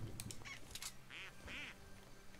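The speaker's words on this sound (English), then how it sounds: "It's a rubber duck." Short, faint squeaks from a rubber duck in Fortnite: Battle Royale, two or three quick toy honks over low game background noise, with no talking.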